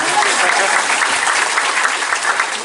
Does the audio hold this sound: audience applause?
yes